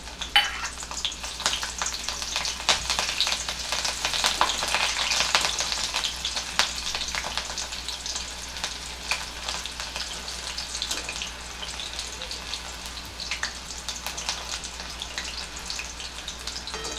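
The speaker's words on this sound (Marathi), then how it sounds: "तेल खूप गरम आहे त्यामुळे त्याच्यातच आता या मिरच्या घालते" Green chillies frying in very hot oil make a loud, continuous crackling sizzle close by, with scattered pops throughout and no voices.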